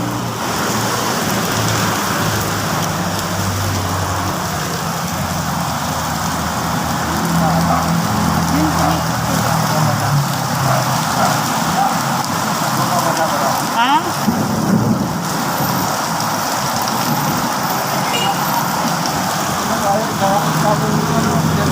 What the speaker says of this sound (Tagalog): Pagbaba ko, ulan na.